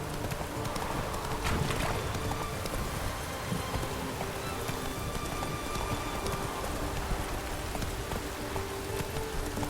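Roach, the horse in The Witcher 3: Wild Hunt, gallops in a steady rapid clip-clop of hooves, up close and continuous over a dense background of rain and ambient noise.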